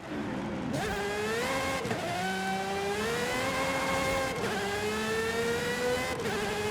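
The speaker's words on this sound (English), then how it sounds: "This car is fun to drive at its limits when you're not racing anyone" A racing car engine in Forza Horizon 5 revs hard and climbs through the gears, each upshift dropping the pitch before it rises again, loud and close with no talk.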